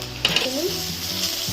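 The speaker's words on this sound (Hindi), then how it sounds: "प्याज हमारा फ्राई हो गया है" Onions frying in a pan for a rajma masala, a steady sizzle with a few scraping stirs of a utensil against the pan near the start, close and continuous.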